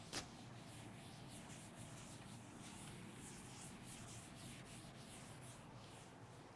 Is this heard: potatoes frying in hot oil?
no